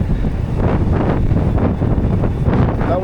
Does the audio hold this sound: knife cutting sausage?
no